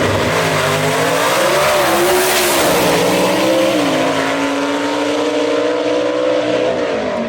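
Gasser race cars drag race at Mooresville Dragway, engines roaring loud and continuous with rising and falling revs as they run down the strip.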